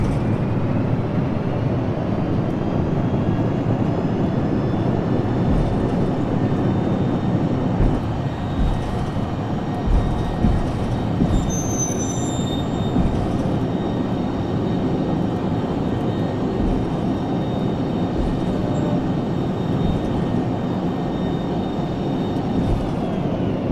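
A VC10 airliner in Flight Simulator X roaring through reverse thrust with spoilers deployed, a loud steady broadband engine rumble with a faint high whine running throughout, no voices.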